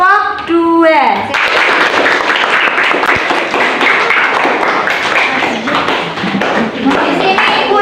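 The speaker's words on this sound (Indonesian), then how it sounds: "Beri tepuk tangan untuk kelompok 2." Schoolchildren in a classroom break into dense, steady clapping for a group of classmates, filling the room at close range for several seconds after a teacher's brief spoken line.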